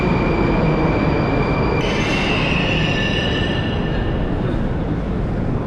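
A Moscow metro train rumbles loudly and steadily alongside a platform, with high metallic wheel squeals rising partway through.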